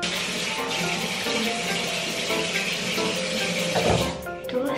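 Running water splashes as facial wash is rinsed off a face, a continuous close hiss that swells briefly near the end before easing off.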